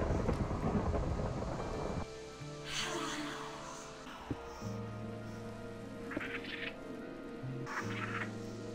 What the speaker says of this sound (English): Oh, and the rain.